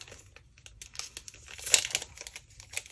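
Thin vellum paper pieces rustle and crinkle as hands handle them close up, in soft, irregular bursts of crackle with one sharper crinkle midway and quiet pauses between.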